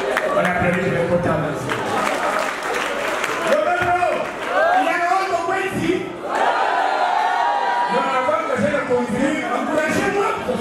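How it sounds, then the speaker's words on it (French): Guests at a Gabonese civil wedding applaud for the bride's family, a lively crowd clapping and cheering throughout with voices calling out over the noise. "On applaudit le Kota."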